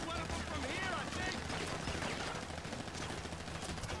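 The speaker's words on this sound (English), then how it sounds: "You can just blind fire a bunch of grenades and they will die." Grenades launched in rapid succession during a GTA 5 Online mission make a dense, continuous barrage of booming gunfire-like blasts that fills the whole stretch without a break.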